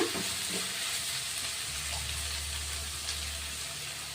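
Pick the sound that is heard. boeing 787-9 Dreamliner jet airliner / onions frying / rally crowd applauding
onions frying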